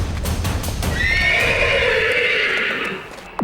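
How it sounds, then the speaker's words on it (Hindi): A horse in a Hindi historical TV drama about Maharana Pratap lets out a loud, drawn-out neigh, preceded by hoof clatter and a rough snort, close and alone without talk. "अरे कोई ढंग से बांधो इस बिन मालिक के बिगड़ेल घोड़े को।"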